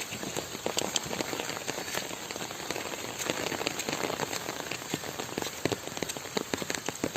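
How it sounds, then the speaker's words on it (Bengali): Steady rain pours during the rainy season in South Bengal, a dense even hiss of drops striking surfaces with scattered sharper splashes, continuous and fairly close throughout. "চারদিকে বৃষ্টি আর বৃষ্টি"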